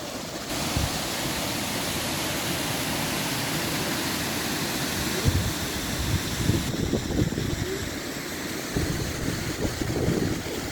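Waterfalls in Ireland's Comeragh Mountains give a steady, dense roar of rushing water, broadband and unbroken, with some wind buffeting the microphone.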